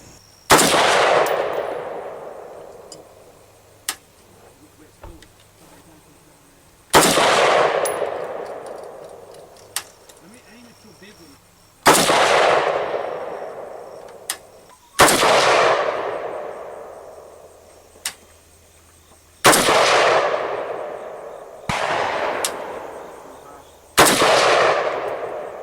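Iron-sighted rifle shots at 100 yards: loud, sharp reports come roughly every four to five seconds, seven in all, each decaying with a long ringing tail and faint metallic pings between them.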